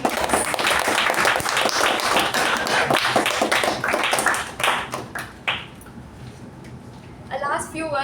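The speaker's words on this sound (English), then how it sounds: "Let's give a huge round of applause for all the term winners and the monthly winners." A crowd at a club meeting gives a loud, sustained round of applause for the term and monthly winners. The clapping thins out toward the end and a voice starts speaking.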